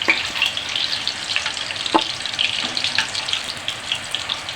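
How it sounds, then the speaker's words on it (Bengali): Boiled eggs fry lightly in hot oil for an egg korma, giving a steady, close sizzle and crackle with a few sharper pops and no voices. "ডিমগুলো একটু হালকা করে ভেজে নিতে হবে"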